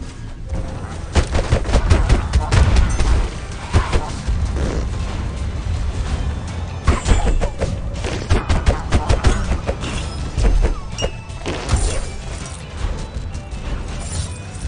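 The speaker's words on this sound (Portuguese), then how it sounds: "Eita, fogos." Booming bursts and crackling volleys of fireworks go off outside in dense, irregular clusters for several seconds, loud and continuous with no pause.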